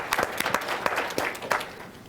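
Audience applause at a sales keynote during an automotive dealers' convention, crisp clapping with distinct individual claps standing out, moderately loud and lasting about two seconds.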